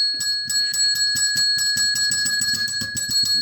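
A ring-for-service bell is struck again and again in quick succession, each bright metallic ding ringing out clearly and close, with no talking.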